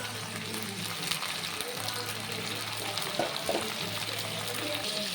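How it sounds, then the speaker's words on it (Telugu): Onions fry in a pan with a steady, close sizzle as tomatoes go in, with a low hum underneath. "ఇదిగోండి ఉల్లిపాయలు వేగిపోయి టమాటాలు వేసుకుంటామండి"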